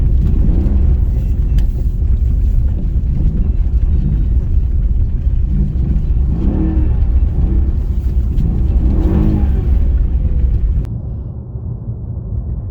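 A 2014 Mercedes-Benz CLS63S AMG engine hums and rumbles while driving, a loud, continuous low drone from inside the car that swells and eases with throttle, then drops off near the end.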